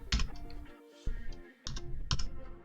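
Keystrokes on a computer keyboard while entering an Excel formula, a few quick clustered clicks with short pauses between bursts, close and clear, no talking.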